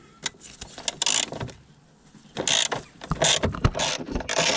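A socket ratchet loosening the battery clamp bolt on a VW T5 Transporter makes several bursts of sharp, rapid clicking, close up, separated by short pauses.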